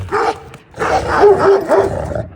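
A dog barks several times in quick succession, close by and loud, with a brief pause after the first bark.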